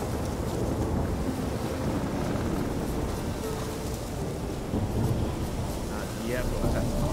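A storm with wind and thunder in The Witcher 3, a dense continuous roar of rushing wind and rumbling low noise that stays loud and steady throughout, with no distinct pauses.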